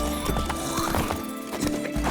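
In The Witcher 3, a horse trots with close clip-clop hoofbeats and gives a whinnying neigh. Game sound and ambience play beneath it.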